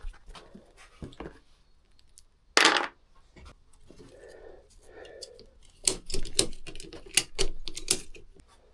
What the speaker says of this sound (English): this ratchet belt, to get the bike on straps